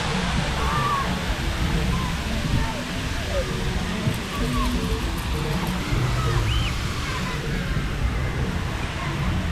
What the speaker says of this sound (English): Here's the big fountain.